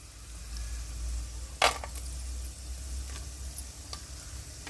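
Cashews frying in a pan for North Karnataka-style mint rice: a quiet, soft sizzle with a sharp scrape of stirring near the start and a few lighter clicks after it.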